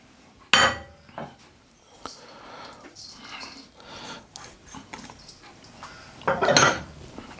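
Sugar and currants are mixed in a bowl, with scraping and clinking of a utensil against the dish, a few louder clanks near the start and end, under a voice speaking.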